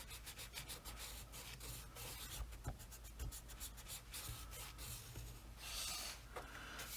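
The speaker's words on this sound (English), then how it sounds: "And just erase in between here." Eraser rubbing back and forth on a coloring book page during a pastel background technique, a steady run of close, dry scrubbing strokes with no voices.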